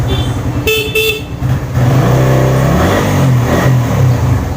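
A carbureted Suzuki Raider 150 motorcycle starts on one press and is revved, loud and close, with engine pulses rising and falling in short bursts and a brief horn-like tone early on.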